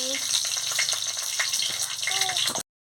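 Dry red chillies drop into hot oil in a wok and fry with a close, steady crackling sizzle that runs for over two seconds before stopping abruptly.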